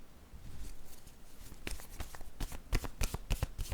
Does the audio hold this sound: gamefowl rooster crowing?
no